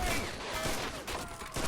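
Anti-tank gun firing in the WWII strategy game Men of War: Assault Squad 2, set on a 1941 Moscow defense line; dense, continuous battle din with overlapping gunfire and blasts filling the whole moment.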